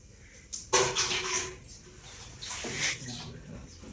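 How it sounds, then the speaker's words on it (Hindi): Water poured into a container for a hydrostatic pressure classroom experiment, two bursts of splashing pouring, close and moderately loud, with a faint voice in the background. "अभी मैं इसमें पानी डालूंगा"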